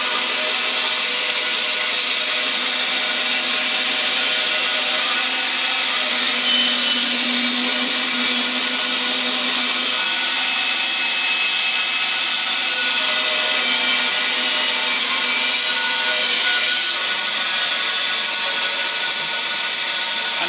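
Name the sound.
bandsaw cutting a wooden pen blank in half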